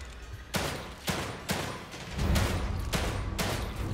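Gunshots in The Evil Within 2 crack out as a string of about six loud, sharp blasts spaced roughly half a second apart, with a rumbling low tail rising midway.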